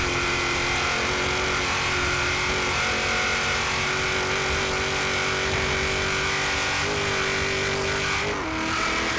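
A 2000 Ford Mustang Cobra R in the racing game Forza Horizon 3 drones loudly and steadily through traffic, its engine holding a constant high-rev roar with small pitch shifts near the end.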